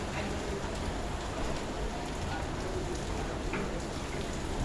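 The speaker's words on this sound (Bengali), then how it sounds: "সেই সকাল থেকে বৃষ্টি শুরু হয়েছে, কিন্তু এখন পর্যন্ত বৃষ্টি থামেনি।" Heavy rain pouring at night, a dense, steady rush of falling water close by that stays loud and even without a break.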